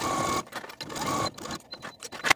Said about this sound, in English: Now sew all the way around both of those leg holes with a 3/8 inch seam allowance.